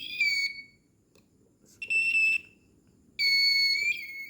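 An Arduino active buzzer with its sticker removed beeps loudly in three shrill bursts with short gaps, sounding close and piercing.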